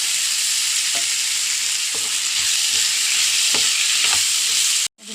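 Chopped tomato and chopped squid heads fry in a pan with a constant loud sizzle, while a spoon stirs them with a few soft scraping knocks spaced about a second apart; the sound cuts off sharply near the end.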